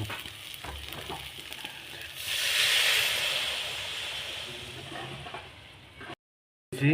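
Fried potatoes and soybeans tipped into sizzling masala for a boneless meat curry, the hiss swelling loudly as they go in, then easing off before a brief silence and a final clatter.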